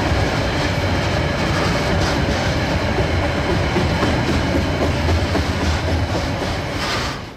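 A DJ-class diesel locomotive train rumbles past on a curve at Burnside near Dunedin, with a steady, loud roar and rhythmic clickety-clack of wheels on rails, the engine noise heavy throughout before easing off at the end.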